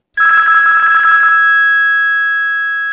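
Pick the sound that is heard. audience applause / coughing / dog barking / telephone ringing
telephone ringing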